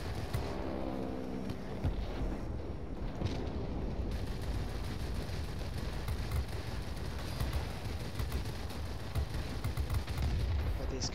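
Aircraft guns on a VB-10 French heavy fighter in a flight combat game fire in dense, rattling bursts that blend into a constant roar. The sound is loud and continuous, with sharp crackling bursts growing more frequent in the second half.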